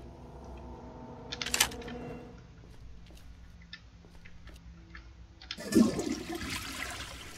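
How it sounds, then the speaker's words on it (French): A toilet flushes inside the Granny Chapter Three horror video game, with a rushing burst of water near the end after quieter clicks and small in-game noises. It is moderately loud and nobody talks over it. "Si je tire la chasse, il n'y a rien, non?"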